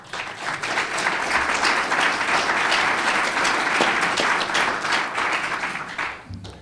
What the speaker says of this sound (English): That's the first applause I've ever gotten for that decision.